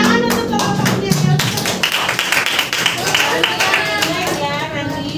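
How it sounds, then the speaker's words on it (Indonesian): A classroom of students claps for a student group, close, lively hand claps and taps with uneven rhythm running throughout, mixed with scattered voices. "Tepuk tangan untuk kelompoknya Elsa"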